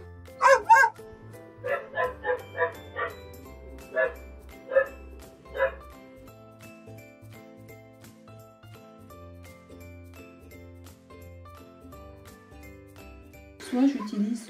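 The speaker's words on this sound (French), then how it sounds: "Quand il crie, on dit qu'il aboie." A dog barks in quick bursts, a cluster of sharp yaps followed by a few spaced single barks, with a faint jingle and a louder sound at the end.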